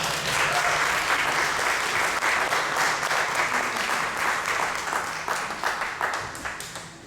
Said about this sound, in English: let's give Brian Will a round of applause